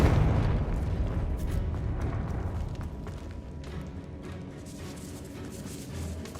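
Bombarda and Confringo spell explosions in Hogwarts Legacy, a heavy low boom that rolls out into a rumbling tail with scattered crackling debris, then fades gradually.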